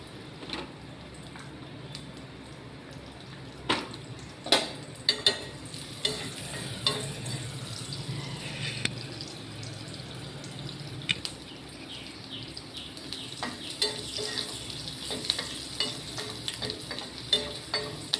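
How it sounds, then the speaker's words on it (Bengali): Garlic and onion sizzle steadily as they fry in fish oil in a wok, with scattered clicks and scrapes from stirring throughout and a few louder knocks near the start. "কড়াইতে তেল হয়েছে, দিয়ে দিলাম।"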